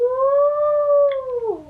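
A voice imitates a fire truck siren with one long, loud, steady wail that holds its pitch and then slides downward as it fades at the end, close and alone.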